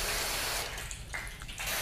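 A strong stream of rinse water sprays and splashes continuously onto sealant-coated car paint, loud and close, briefly easing before surging again.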